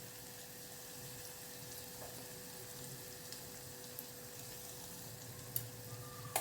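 Curry leaves, turmeric and asafoetida crackle and sizzle in hot oil for a Marathi-style kadhi tempering, a steady close frying hiss with a few sharp pops near the end.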